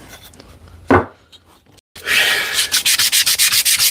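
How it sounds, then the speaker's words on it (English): Hand sanding on wood for a drawer cabinet build: a single scrape, a brief pause, then rapid rhythmic back-and-forth rubbing strokes, close and loud with no talk. "Just a little bit of sanding,"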